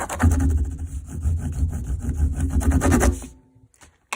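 A crayon is rubbed back and forth over a textured sheet, producing close, rhythmic scratchy strokes for about three seconds before stopping into near silence.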